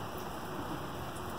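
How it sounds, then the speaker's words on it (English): Steady, dense rain hisses down on a surface, a constant wash of drops with no voices. "it just started raining pretty hard"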